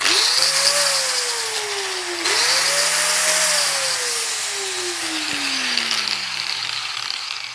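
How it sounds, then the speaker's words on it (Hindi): Mains-powered electric grinder running alone for several seconds, its motor whine rising to a peak and winding down twice with a steady mechanical hum throughout. "अब ये वाला ग्राइंडर मैं बिजली से भी आप लोगों को दिखाता हूँ"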